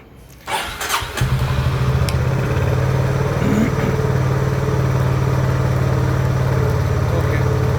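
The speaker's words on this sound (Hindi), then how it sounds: "मैं एक बार बाइक को स्टार्ट करने की कोशिश करता हूँ" A Honda CB350 motorcycle cranks briefly and fires up, settling into a steady, close, throbbing idle that runs on evenly.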